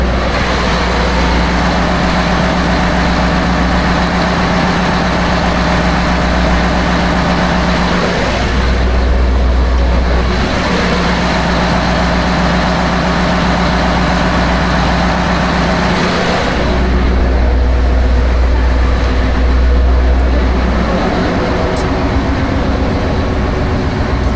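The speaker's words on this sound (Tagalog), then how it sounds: "Makina." A boat's engine runs on a trip out to the Pacific Ocean, a loud, continuous low drone with steady mechanical hum and harmonic tones, dipping briefly twice before resuming at full strength.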